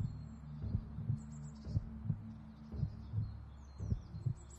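A slow, steady heartbeat of paired low thumps repeats about every second under a soft hum during a guided meditation, with faint bird-like chirps high above.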